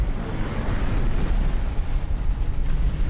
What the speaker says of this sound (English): Got strafe coming in the middle now